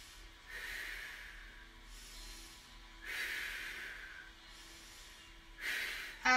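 Heavy breathing while holding a low plank on the forearms, slow audible exhales through the nose and mouth repeating about every two and a half seconds, close and fairly quiet.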